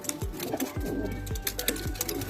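Young racing pigeons coo on a loft landing board, several low throaty coos repeating at a steady pace close by, with soft rustling and faint bird chatter behind.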